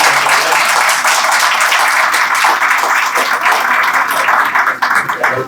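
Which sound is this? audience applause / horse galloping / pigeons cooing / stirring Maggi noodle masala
audience applause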